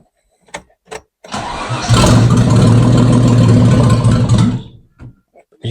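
After a few faint clicks, a 1979 Ford Cortina engine cranks, catches and roars into a loud, steady rev for about three seconds before dropping away. Brief, soft sounds follow.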